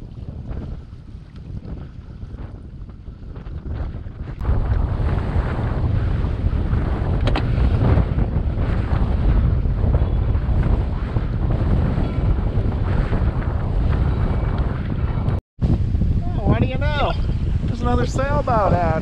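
Strong wind buffets the microphone in heavy, roaring gusts at sea between islands, with rushing water and waves underneath; a brief dropout near the end.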